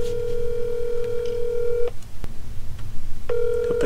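Telephone keypad tones sound as a call is dialed: a long steady tone, a pause with faint background noise and a click, then another steady tone returning near the end, close and clear.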